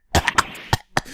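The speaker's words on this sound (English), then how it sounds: "Maybe I should clear my throat." Someone in a Phoenix Wright: Ace Attorney game clears their throat in a few short, sharp, close bursts, a rough cough-like hack repeated about four times within a second.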